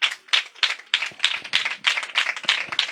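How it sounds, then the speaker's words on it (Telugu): An audience at a Saturday night church worship service claps in a quick, steady rhythm of sharp hand claps, fairly close and moderately loud, with no voices over them. "క్లాప్స్ కొట్టండి చేసేకి"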